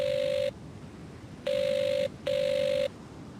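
Touch-tone telephone dialing in an Agatha Christie video game: three clear electronic tones, the first short, then two longer beeps in quick succession, separated by quiet gaps with no talking.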